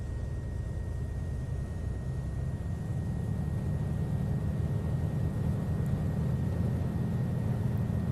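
A Cessna 206 Stationair's piston engine in FSX, run up to 1800 RPM with the mixture at full rich. It gives a steady, loud, low drone that holds even throughout, with no talk.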